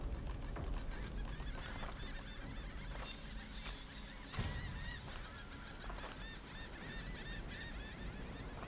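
Seagulls in the fantasy role-playing game Divinity: Original Sin II give repeated short, rising cries throughout over a constant bed of game ambience, moderately loud with no speech.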